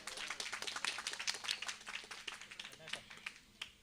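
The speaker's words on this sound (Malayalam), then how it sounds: "നല്ലൊരു കയ്യടി കൊടുക്കൂ." An audience at a temple anniversary cultural program of bhajans in Palakkad breaks into steady applause, many hands clapping at once while an announcer speaks over it.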